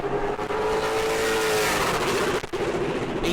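A Pro Late Model race car roars along the back straightaway during qualifying at New Smyrna, its loud engine note rising in pitch as it passes close by, with a faint squeal of tires.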